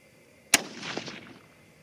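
A single sharp .22-250 Remington rifle shot at a shooting range cracks out loud and close, followed by a rolling echo that fades over about a second.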